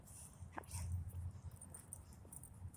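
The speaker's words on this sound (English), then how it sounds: "that was a cute dog." A dog whimpers and yips softly a few times at close range, brief high-pitched sounds over a low hum, with no talking.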